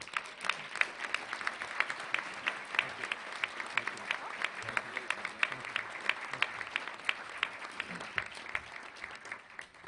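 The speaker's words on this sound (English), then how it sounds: "Please join me in welcoming him to the podium with an enthusiastic welcome and show of applause" Steady applause greets a speaker coming to the podium at a gala luncheon, a moderately distant room of clapping hands with sharp individual claps standing out, sustained evenly for about ten seconds.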